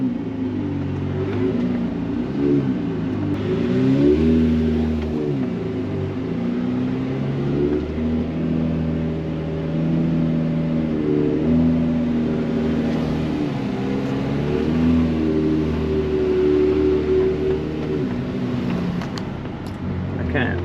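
Engine of a Lamborghini Murcielago pulling hard in sport mode, a loud, steady low roar with rising and falling pitch as it accelerates and shifts, heard close from inside the cabin for the whole stretch.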